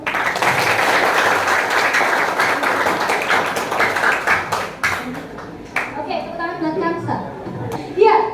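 Classroom applause from students during a lesson, a busy burst of clapping mixed with children's chatter and voices, fairly close and lively, thinning out toward the end with a few scattered claps.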